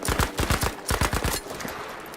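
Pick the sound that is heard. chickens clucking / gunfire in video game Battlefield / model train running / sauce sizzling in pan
gunfire in video game Battlefield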